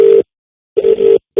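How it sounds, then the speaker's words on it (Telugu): A telephone ringback tone sounds while a call is being placed: a steady mid-pitched buzz in short repeated bursts separated by a gap of silence. The tone is clear and close, with no voices. "యమున గారికి ఫోన్ చేద్దాం."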